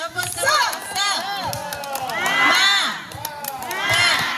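Church congregation at an outdoor service joins a tepuk semangat clap-and-cheer, a loud mass of excited, shouting voices swelling in waves, with the rhythmic clapping hard to pick out beneath the cheering.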